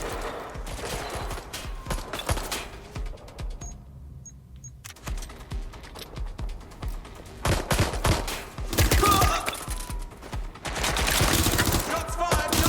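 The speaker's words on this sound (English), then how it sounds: "Shots fired! Shots fired!" Gunfire in the video game Watch Dogs Legion, dense bursts of rapid shots and fusillades crackling near and loud, with a brief lull before heavier volleys resume and continue to the end.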